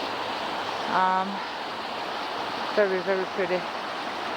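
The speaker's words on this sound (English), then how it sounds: "Another beautiful view of the river, just running down the mountain." A mountain river on Vitosha near the Boyana Waterfalls, a steady broadband rush of running water, with someone speaking briefly over it.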